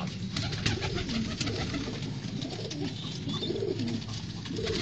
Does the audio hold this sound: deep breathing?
no